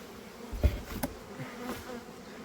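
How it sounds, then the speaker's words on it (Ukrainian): Honeybees buzz steadily nearby in morning sun, a soft continuous hum with a few louder passes as individual bees fly close. "Помітьте, як на сонці бджоли працюють"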